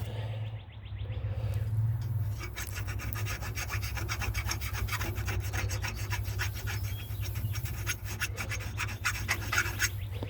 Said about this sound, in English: I realize this is probably improper filing in someone's view